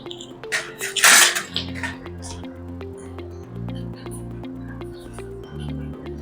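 Chicken being stirred with curry leaves, cashews and sesame seeds in a pan: metal clatters and scrapes, one louder clang early on, then a steady sizzle with faint tapping.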